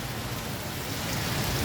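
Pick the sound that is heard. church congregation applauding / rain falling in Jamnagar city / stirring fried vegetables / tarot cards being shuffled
rain falling in Jamnagar city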